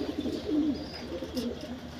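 A pigeon coos softly nearby in a loft of active pigeons, a few low throaty rolls in quick succession over a quiet background.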